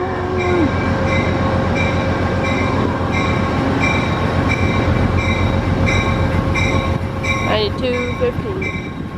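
A northbound Metrolink commuter train passes close by at a Los Angeles rail safety day, its steady loud rumble and clatter of wheels running throughout, with horn-like tones and brief wheel squeal near the end.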